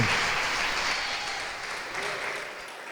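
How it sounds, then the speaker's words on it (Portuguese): Congregation applauding in church, a dense, steady burst of clapping from many people that fades slightly toward the end, heard alone without talk. "Vamos aplaudir o nome do Senhor"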